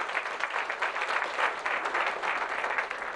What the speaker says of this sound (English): Let's give him one applause,